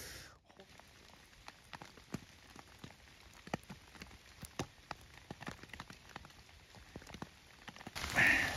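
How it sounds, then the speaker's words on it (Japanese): Rain falls outdoors, with scattered individual drops tapping irregularly on nearby surfaces over a soft, steady background patter. "現在雨ですが"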